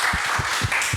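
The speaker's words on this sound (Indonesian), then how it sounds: "Tepuk tangan" Steady clapping from a workshop audience at Kirana Dakara 2024, a session on Nusantara beauty color composition, holds as a close, even wash with a few soft low thumps pulsing through it.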